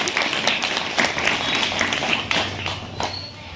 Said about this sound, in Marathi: या सर्वांसाठी एकदा जोरदार टाळ्या वाजवूया आपण